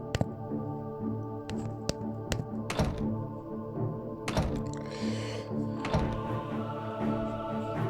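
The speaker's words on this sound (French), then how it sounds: "Je vais essayer de débloquer la porte." A stuck door is forced open in the video game Jekyll et Hyde: a series of heavy thunks and knocks, some sharp and some dull, scattered over a humming musical background.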